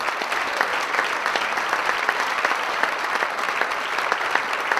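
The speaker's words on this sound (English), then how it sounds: "I'd like you to join me in with a big round of applause for our major sponsor tonight" Audience at an awards show applauds a major sponsor: steady, dense clapping from a large crowd, sustained and even throughout, with no talk over it.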